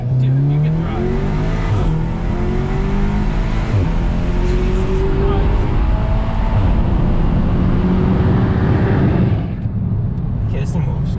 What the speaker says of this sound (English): I can hear the turbo and the way it's like pulling